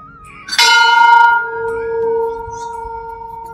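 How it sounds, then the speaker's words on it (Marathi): A large bell at the Tandali Maruti Hanuman temple in Markal near Alandi is struck once, a sharp loud clang that rings on in a long, clear, slowly fading hum. "प्रत्येक मंदिरामध्ये शक्यतो घंटा असतो, कारण मंदिरामध्ये जाताना आपण प्रत्येक जण घंटा वाजवूनच आतमध्ये जात असतो"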